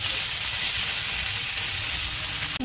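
Ginger paste hits the pan with shankar (stingray) fish and a loud, dense, close-up sizzle holds steady and unbroken throughout.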